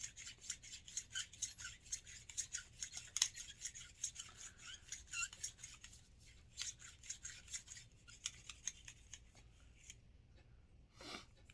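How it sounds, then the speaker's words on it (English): A cleaning brush scrubs through the barrel of a Heritage Rough Rider .22LR revolver in quick, close, quiet rasping strokes, repeated in an irregular rhythm and fading near the end. "your brush and just kind of run it through and get some of that crud in the barrel out of there"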